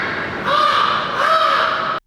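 Human voice imitating a crow's caw during a yoga exercise: two loud, harsh, nasal caws, close to the microphone and alone, the second ending abruptly in silence.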